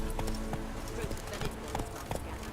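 Roach, a horse in the video game Witcher 3, gallops with a quick run of rhythmic hoofbeats under nearby talking.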